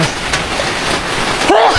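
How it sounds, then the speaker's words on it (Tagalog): Steady rain falls outdoors under an overcast sky as a typhoon approaches, a continuous broadband hiss throughout with a brief voice-like tone near the end. "naulan-ulan kasi dito guys"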